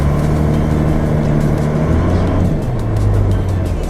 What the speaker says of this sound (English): So I'm drifting like completely sideways right now.